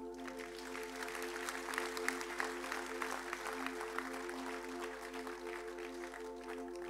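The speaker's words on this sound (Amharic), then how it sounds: "አጨብጭቡ ለጌታ" A congregation at an Ethiopian evangelical church conference in Germany claps steadily and continuously, with a sustained tonal hum running underneath the dense patter.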